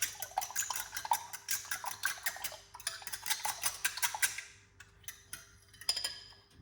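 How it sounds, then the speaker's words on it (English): Whisking egg in a bowl for scrambled eggs, a fast run of bright clinking ticks of utensil against dish, steady and close, then slowing into a few scattered taps. "So just beat the egg a little bit, not too much."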